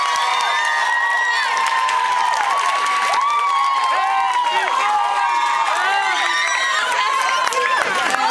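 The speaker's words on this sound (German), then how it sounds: "Einen großen Applaus, ganz, ganz toll." An audience gives the Balkan Boys big applause, a dense, continuous wash of clapping with cheers and shouted voices mixed through it.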